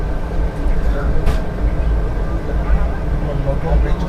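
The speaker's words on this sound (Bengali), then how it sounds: "নৈহাটি স্টেশনে ট্রেন ঢুকছে এখন" A Maa Tara Express train on the Sealdah to Bolpur line pulls into Naihati station at about sixty kilometres an hour. A loud, steady rumble of wheels and carriages runs throughout.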